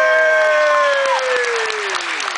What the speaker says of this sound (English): we'll say some applause